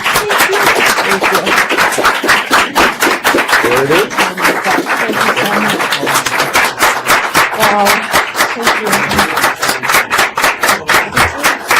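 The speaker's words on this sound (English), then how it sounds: "give her a round of applause" Audience at a board meeting claps in a steady, fast rhythm, loud and close, with cheering voices and a brief spoken remark mixed in over the applause.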